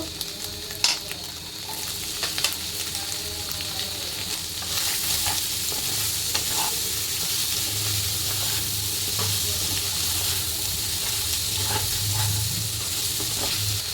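Vegetables sizzle steadily in a frying pan for vegetable Maggi noodles, a continuous close hiss with occasional scraping and clinks of stirring, no talk.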